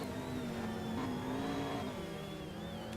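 GT3 and GT300 race cars at Utah Motorsports Campus, a steady engine drone with a slowly shifting pitch that holds loud and continuous throughout.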